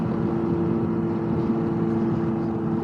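A Ryker three-wheeler motorcycle with a loud aftermarket exhaust drones at a steady, low, rumbling pitch while riding, continuous and close with no speech over it.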